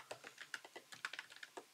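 Rapid, uneven keystrokes on a computer keyboard while entering text, close and fairly quiet, with short pauses between bursts of clicks and no talking.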